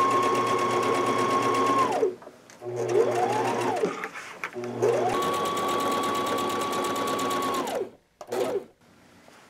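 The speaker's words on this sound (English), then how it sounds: "And I'm going to stitch all the way around this pocket, attaching it to the bag." A sewing machine stitches a pocket onto a canvas tote bag, running in long steady bursts with brief pauses and short back-stitch runs between them, close and fairly loud.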